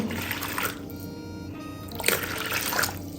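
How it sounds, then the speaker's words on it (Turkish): Lukewarm water poured into a bowl for village-style potato bazlama dough, a steady close trickle and splash that thins briefly midway before flowing more strongly again, with no voices. "ılık su"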